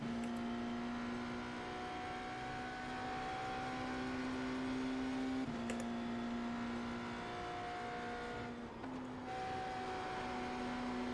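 A race car engine in a Le Mans racing video game, a steady droning whine that shifts pitch a couple of times as the car runs behind an LMP2 toward the Porsche curves.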